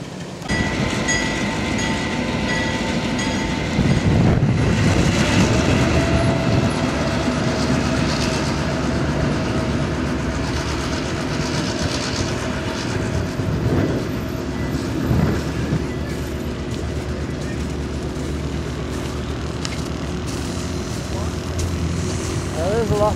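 Passenger train with extra passenger cars picked up in Cochrane, rolling steadily with a continuous low rumble and rattle, close and loud throughout, with people talking over it.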